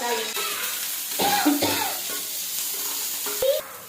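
Boiled masoor dal frying with tempering spices in a home kitchen late at night, a steady close sizzle with occasional stirring scrapes and brief background voices.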